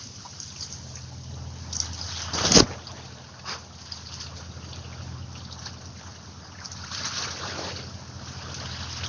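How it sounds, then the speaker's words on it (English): Waves kicked up by passing barges lap and splash against a small fishing boat on floodwater, with soft irregular sloshes, one sharper knock and faint wind, heard close and without voices. "Here comes the waves from the barges going by."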